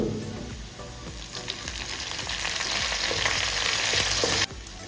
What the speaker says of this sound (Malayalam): നമ്മൾ ഇതിലേക്ക് ഒരു തണ്ട് കറിവേപ്പില ചേർത്ത് കൊടുക്കുക.